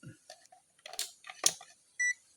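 A short steady multimeter continuity buzzer beep near the end, testing a shorted diode in a Reyna3c Platinum karaoke player, following scattered clicks and handling noises with brief murmured talk.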